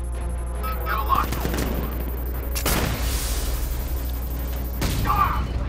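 Gunfire rattles through Batman: Arkham Knight during the Mr. Freeze and Nora Fries DLC mission: loud, dense bursts of shots and booms over constant game noise, with a sharp crack partway through.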